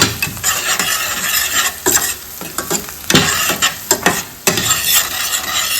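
Garlic, onion, spices and curry leaves fry in a pan for an Indian broad bean stir-fry, with a close, steady sizzle broken by repeated scraping stirs of a spoon against the pan, and no voices.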